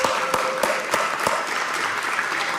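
A brief burst of applause at a community panel event for a new mayor and administration, a handful of sharp claps up front blending into a steadier patter, fairly close.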